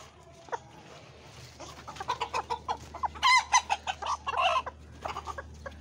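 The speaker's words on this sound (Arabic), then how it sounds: "خلنا نطلع الدجاجة كمان اللي راقدة على البيض" A brooding hen sitting on eggs gives a run of soft, irregular clucks and short throaty calls, close by and fairly quiet, over a faint steady hum.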